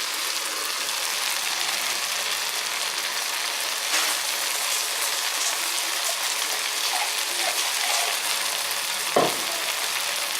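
Coconut, ginger, garlic, cinnamon, cloves and cashew frying in a pan, a steady loud sizzle with occasional stirring scrapes and a sharp clink near the end.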